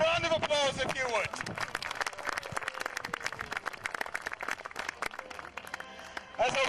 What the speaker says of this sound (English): a round of applause if you would